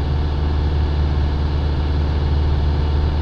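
A UD25 diesel engine holds a steady 2000 rpm, a loud, even, continuous low rumble with no breaks and no talking.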